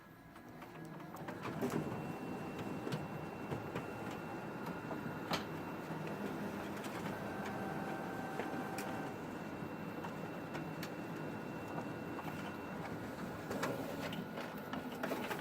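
A Konica Minolta office printer runs a document job, giving a steady mechanical whir with thin whining tones and faint clicks across the whole stretch. No one speaks.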